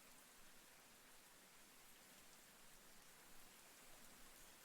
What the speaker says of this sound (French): la pluie commence à tomber, douce et discrète.